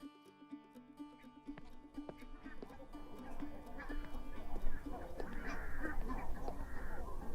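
Svalbard barnacle geese calling at Caerlaverock on the Solway Firth, a flock of yelping honks that starts sparse and builds into a dense, overlapping chorus carried from across the mudflats.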